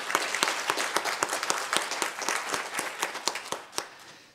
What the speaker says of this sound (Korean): 오늘 우리 미리 땡겨가지고 축하한다고 한번 박수 크게 하면 어떨까요?